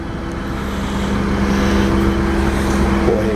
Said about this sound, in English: Go ahead and cut that motor off.